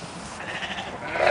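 A sheep on a small farm gives a single drawn-out bleat, close and moderately loud, over faint outdoor background, without speech.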